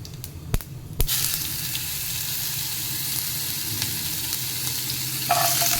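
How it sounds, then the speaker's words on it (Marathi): Cumin seeds and a spoonful of ginger-garlic-chili paste hit hot oil for a potato-soya curry, with a couple of sharp drops followed by a steady, close, loud sizzle that hisses on without pause; no talking. "आता या तेलामध्ये जिरं घालूया नंतर आलं लसूण आणि मिरचीची पेस्ट घालूया एक चमचा"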